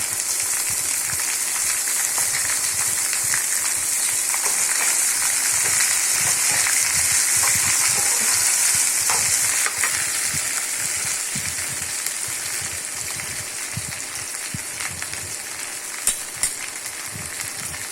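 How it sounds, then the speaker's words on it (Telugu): Chopped okra sizzles in hot oil in a pan, a steady bright crackling hiss that runs without a break, with faint stirring scrapes and small pops scattered through it. "ముందుగా తరిగి పెట్టుకున్న బెండకాయ ముక్కలు వేసుకోవాలి"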